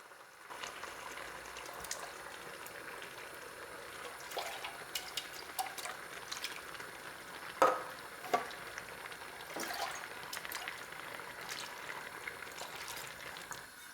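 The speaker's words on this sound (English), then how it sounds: "I think the tikka masala is ready and it's been boiling" Chicken tikka masala sauce made with chopped tomatoes and water bubbles in a pan, giving soft continuous simmering with scattered pops and a couple of louder splutters, faint and steady throughout.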